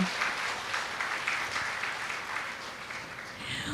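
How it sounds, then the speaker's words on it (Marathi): Audience applause at an anniversary closing ceremony with interviews on stage, a steady moderate clapping that stays even and fairly distant for a few seconds with no voices over it. "ह्याच्यासाठी पुन्हा एकदा टाळ्या झाल्या पाहिजेत"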